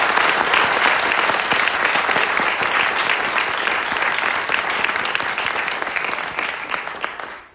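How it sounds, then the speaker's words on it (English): An audience at a college staff and instructor awards ceremony claps in a loud, dense, sustained round of applause that tapers off toward the end. "let's give everybody one big round of applause"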